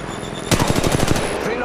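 Rapid automatic gunfire from Apex Legends Mobile, a loud close burst of about a dozen evenly spaced shots that starts abruptly and stops, with a faint voice nearby.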